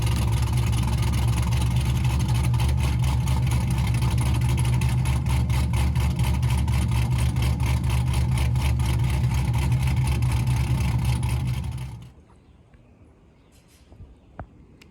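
A C5 Corvette engine idles steadily up close with a low, even rumble after an alternator and voltage regulator replacement, then cuts off abruptly at about twelve seconds, leaving near silence with a few faint clicks.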